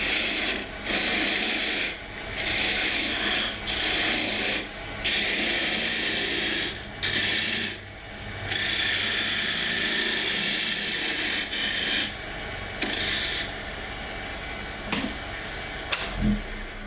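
A woodturning tool scrapes and cuts wood on a lathe while clearing material while turning a sphere, with a loud rasping hiss in repeated bursts broken by short pauses, no talking over it.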